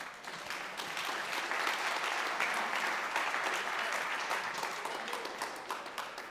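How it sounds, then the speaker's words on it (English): An audience at a New York announcement of cannabis equity programs applauds steadily at moderate volume; the dense clapping swells, holds and then thins slightly. "That, you can clap for that."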